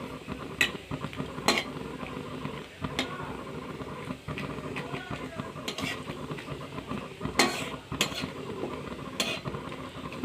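Whole cumin seeds being stirred and tempered in hot oil in a pan, a steady sizzle with repeated scraping clinks of a utensil against the pan, close by and moderately loud throughout.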